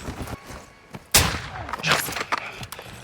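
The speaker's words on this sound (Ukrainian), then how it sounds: "Вартушка по комусь стріляє." Call of Duty Warzone DMZ gunfire in quick bursts, one loud crack then a rattling volley, with scattered shots trailing off afterward.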